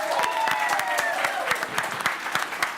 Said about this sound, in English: Everyone give him a round of applause.